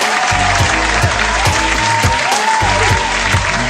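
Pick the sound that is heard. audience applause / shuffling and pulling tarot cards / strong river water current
audience applause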